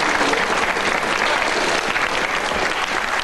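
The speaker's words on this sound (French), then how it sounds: "je vous demande de l'applaudir" A television studio audience on a French comedy panel show applauds a guest, steady dense clapping that continues evenly from start to finish.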